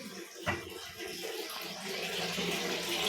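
Tap water running steadily into a container for fish preparation in a home kitchen, a continuous rushing splash that grows slightly fuller over a few seconds, with no talking.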